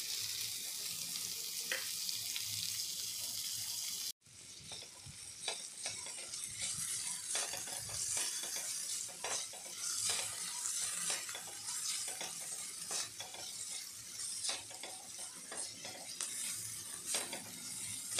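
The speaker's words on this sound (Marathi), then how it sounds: "कोबी पण आपला असं परतून घेतलेला आहे" Cabbage and onion sautéing in a pan for a stuffed chapati filling, a steady close hiss of frying with frequent scraping stirs; the sizzle starts abruptly after a brief louder rush at the beginning and continues without talk.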